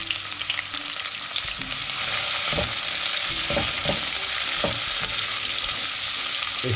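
Onions dropped into hot oil with whole garam masala spices for aloo gosht in a handi, the sizzle swelling louder after a moment, with a few knocks of stirring, no speech.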